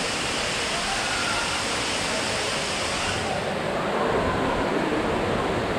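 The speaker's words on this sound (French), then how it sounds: "Sous la cascade." Steady, loud rushing roar of water falling from a concrete structure clad to look like wood at Gardens by the Bay, Singapore, heard from directly beneath the cascade with no voices.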